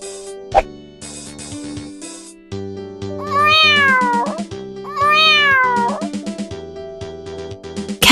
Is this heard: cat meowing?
yes